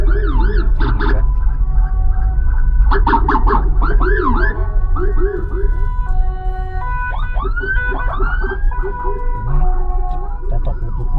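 An ambulance siren sounds outside a moving car, its warbling, swooping tones repeating over a steady low road rumble, loud and continuous throughout.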